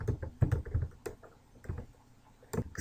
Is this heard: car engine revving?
no